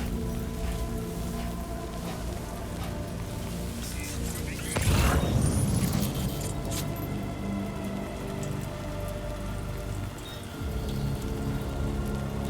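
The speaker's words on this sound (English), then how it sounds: "but it's raining" Steady rain hisses across the surface in Death Stranding 2, a continuous wash with a louder rushing swell partway through, then settling back to an even patter.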